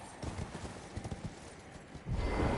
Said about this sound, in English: the horse movement is so weird